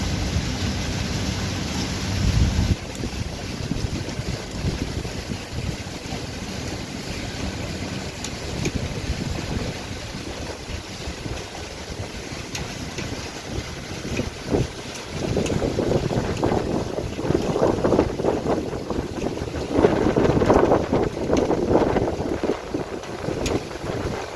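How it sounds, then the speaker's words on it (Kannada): Heavy, continuous rain with gusting wind in Abu Dhabi, a steady broad rush that thickens and grows louder toward the end, with no voices. "ರಾತ್ರಿಯಿಂದ ಕಂಟಿನ್ಯೂಸ್ ಮಳೆ ಬರ್ತಿದೆ ನೋಡ್ತಿರ್ಬೋದು ನೀವು"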